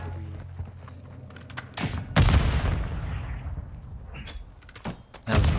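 A grenade explodes in a video game firefight with a sudden loud boom that rumbles and decays over a few seconds. Softer thumps and clicks come before it, and a second heavy hit follows at the end.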